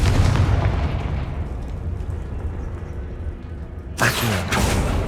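A Confringo fire spell in Hogwarts Legacy goes off with a heavy, rumbling burst that decays into a low roar, followed by a sharper second impact near the end.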